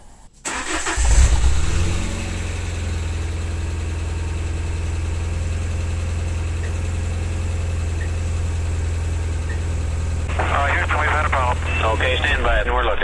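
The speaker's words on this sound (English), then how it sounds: "I'm going to go and switch the engine on" A car engine cranks and fires after a second of quiet during a brake pressure test on a Bosch ABS system. It then settles into a steady, close idle with a low drone, and a voice is heard briefly near the end.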